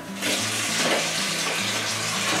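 Tap water gushes steadily into a kettle in a home kitchen, a loud, continuous rushing splash that starts abruptly and holds without pause.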